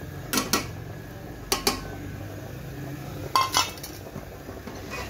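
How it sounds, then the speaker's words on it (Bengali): Fried fish pieces tipped into a cooking pan, heard as three separate clusters of clinks and clatters of metal and crockery against a soft, quiet background hiss. "ভেজে রাখা মাছগুলো ঢেলে দিলাম।"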